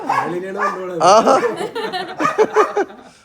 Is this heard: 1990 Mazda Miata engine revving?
no